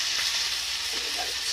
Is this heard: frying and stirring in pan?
yes